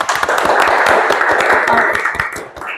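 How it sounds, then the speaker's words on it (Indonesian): A crowd of people clap together in steady, dense applause. It carries at full volume for a few seconds during an Indonesian podcast episode, then begins to thin out at the end. "Beri tepuk tangan lebih dulu dong."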